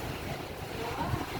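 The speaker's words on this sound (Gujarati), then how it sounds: "વાવાઝોડા જેવો પવન છે" Strong storm wind in Jamnagar buffets the microphone as a continuous loud roaring rush, with no break and no voices.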